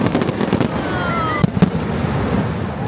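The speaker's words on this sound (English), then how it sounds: "That was brilliant watching the fireworks from out there on Ocean Boulevard, the seafront here in Blackpool." Fireworks bursting over the seafront at Blackpool on Ocean Boulevard at night, with a dense run of crackling pops and a couple of sharper booms near the middle, loud and continuous against a busy crowd-like background.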